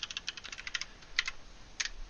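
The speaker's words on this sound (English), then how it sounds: "I'll type in my password" A password tapped out on a computer keyboard: a quick run of light, crisp key clicks, then a short pause and two further isolated taps, close and quiet with no voices.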